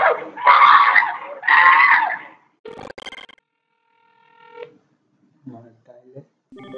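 Asterisk phone system playing back audio and then dialing a number: a voice-like tone burst first, then brief beeps and steady dial tones with gaps, fairly close, with no talking.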